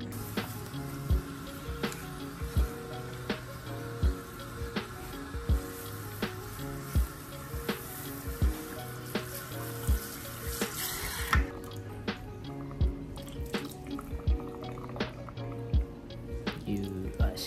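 Tap water runs steadily while dreadlocks are washed under it, a close splashing stream with small drips and soft knocks recurring in a loose rhythm, fairly quiet throughout.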